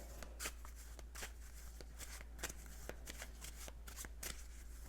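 Cards being shuffled over and over, a steady run of crisp riffling flutters close by, with short bursts repeating across the whole stretch.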